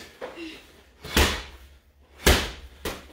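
Medicine ball slammed to the floor during a cardio workout, two loud heavy thuds about a second apart, each with a short boomy impact, with a faint voice between them.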